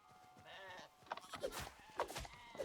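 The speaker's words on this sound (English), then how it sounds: "Ooh, sheep." Sheep in the video game Hytale bleat in a few short, wavering calls, quiet and game-like, with small thumps and clicks between them.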